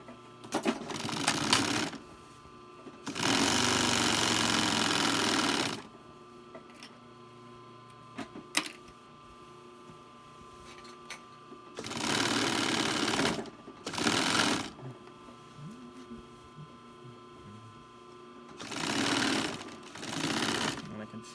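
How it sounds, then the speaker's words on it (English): A sewing machine stitches a reinforcing triangle through the thick layered seam of a wool Hudson Bay blanket shirt, running in several loud, steady bursts of a few seconds each with quiet pauses between. "I'm stitching a little triangle in this corner to lock down all the layers and reinforce it"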